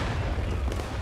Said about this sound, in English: That was a good arty shot.